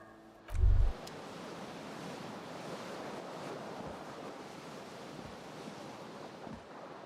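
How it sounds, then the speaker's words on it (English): Cool wind gusting in through an open balcony door, a steady broad rushing that stays fairly even and close to the microphone after a short low thump at the start. "The cool wind gushes in."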